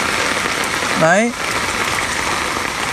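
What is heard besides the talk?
heavy rain and strong wind during a flood in Huế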